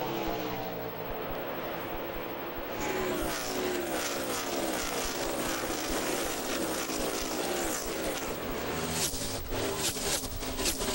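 NASCAR Nationwide Series race cars at the 2009 Stater Bros 300 roar past side by side into a corner, a loud continuous engine drone with rising pass-by sweeps and no talk.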